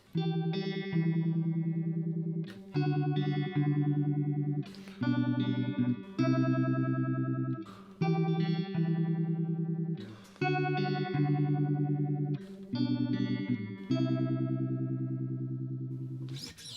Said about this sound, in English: which at that point you are sort of almost getting into more of a tremolo-y kind of effect